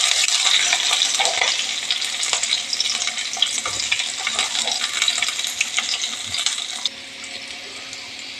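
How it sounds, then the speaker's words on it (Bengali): Sliced onions and long-cut green chillies fry in a pan with a steady, broad hiss, and there are occasional stirring scrapes. It sounds close and fairly loud, with a brief drop in level near the end. "দিয়ে দিলাম লম্বা লম্বা করে পেঁয়াজ কাটা।"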